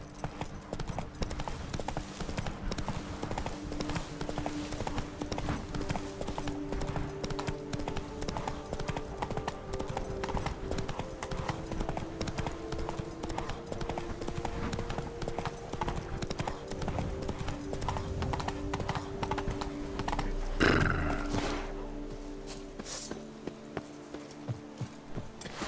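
Horse hoofbeats in The Witcher 3 as the rider gallops along. A steady, fast clip-clop runs continuously at moderate volume, with a brief heavier thump near the end before the rhythm slows.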